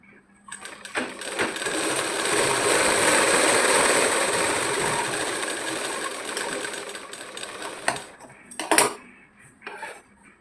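A sewing machine runs in one long continuous burst as it stitches fabric for a child's petticoat top, with a loud, even whirring hum. Then come a few short clicks and bumps, and no one speaks.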